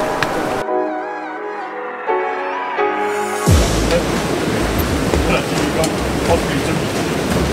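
Rushing mountain creek at night on the Duowang stream in Yilan, Taiwan, running high and full; a voice-like harmonic sound opens, then a broad, steady roar of water takes over and continues to the end.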